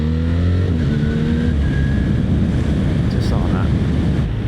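BMW R1300 RS motorcycle pulling away, its engine rising in pitch under heavy wind buffeting on the microphone, loud and close throughout.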